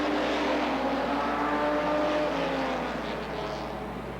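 Stock cars racing laps around a speedway oval at the CNE in 1990, one car cutting quickly along the inside line, a steady loud engine roar holding throughout and easing slightly toward the end.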